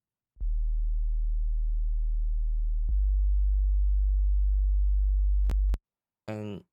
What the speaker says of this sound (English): if I turn off the effects right now, you can hear that it's just a basic sine wave.